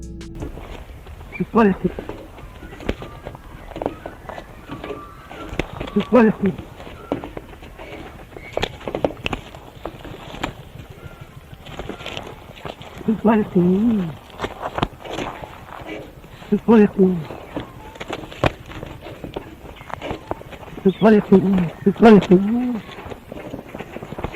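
An Australian duck imitates human voices in short, speech-like bursts that repeat every few seconds. Between the calls there are softer background thumps and rustles.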